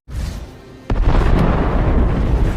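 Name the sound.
volcano explosion on an island, One Piece anime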